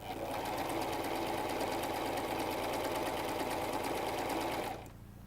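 A sewing machine runs at steady speed, stitching salwar fabric along a marked line, its rapid close mechanical whirr continuing for several seconds before stopping abruptly near the end.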